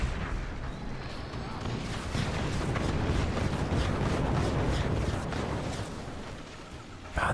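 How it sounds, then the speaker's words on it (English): A howitzer shell explodes in a video game, producing a rumbling, sustained blast with rolling low booms and crackling debris that stays loud for several seconds before easing off near the end. "Here comes another howitzer shell."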